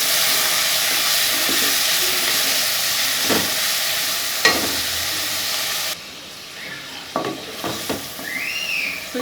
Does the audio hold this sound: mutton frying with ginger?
yes